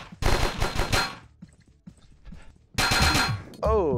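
Bursts of gunfire from a VR team-based shooter, Alpha Mike Foxtrot: a loud rattling volley of shots, a pause with faint clicks and movement, then another burst and a ringing tone at the end.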